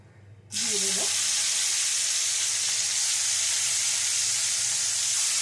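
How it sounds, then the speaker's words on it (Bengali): Marinated hilsa fish drops into hot oil in a wok, setting off a sudden loud, sustained sizzle that stays close and steady after a brief quiet start. "ইলিশ মাছটা কড়াইতে তেল গরম করেছি এই গরম তেলের মধ্যে"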